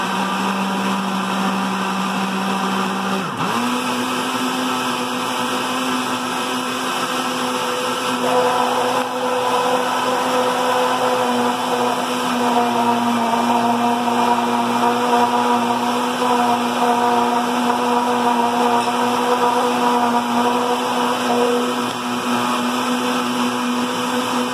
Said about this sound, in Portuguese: vamos ligar o liquidificador para bater.